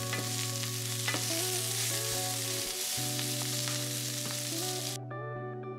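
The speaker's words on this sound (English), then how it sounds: "I just saute it and stir it around, and also stir the potatoes around so they don't stick." Kale and potatoes sauté in a pan while being stirred, a continuous soft sizzle and hiss under steady background music that cuts away near the end.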